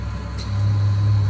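A flight simulator aircraft engine drones low and steady as it is throttled back, a loud close hum with a deep tone that thickens slightly midway, and no talking over it.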